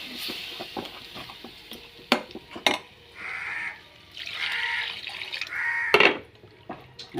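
Cold water is poured into a pan of Kerala sardine (mathi) curry in a few separate splashing bursts, with sharp clinks of a utensil against the pan between pours and a faint bird call in the background.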